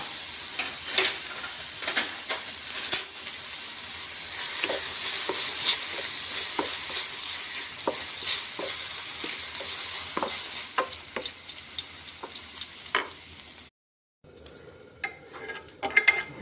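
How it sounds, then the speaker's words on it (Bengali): Chili powder and ginger being stirred in a hot frying pan, a steady sizzle under repeated scraping and clinking of the spoon, close and fairly loud, with a brief pause near the end before the stirring resumes. "এখন আমি মিক্স করে নেব"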